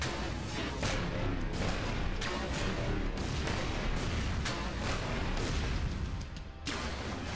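Heavy, booming gunfire pounds steadily at a chimera in the game ELEX, a dense and loud barrage of shots with impacts and no voices over it.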